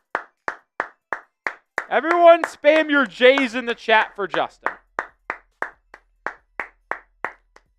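Evenly spaced single claps ring out for a new hire named Justin, a steady beat that pauses while a voice talks over the middle, then resumes at the same pace.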